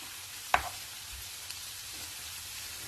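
Grated carrots hit a hot pan with a sharp sizzle, then fry and get stirred, with a steady close sizzle and a few faint scrapes of the spoon.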